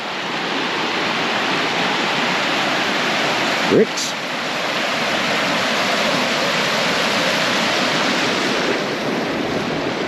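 A river flows steadily beside benches on a walk through Kettering, a constant broad rush with a brief knock partway through and a single spoken word.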